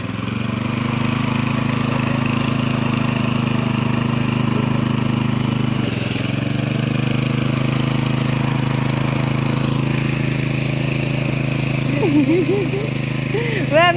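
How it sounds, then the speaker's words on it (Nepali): A tractor engine runs in a village rice-planting field, holding a loud, steady droning hum close by for the whole stretch, with brief chirpy sounds near the end. "यसरी ट्र्याक्टर चलाउनु हो त।"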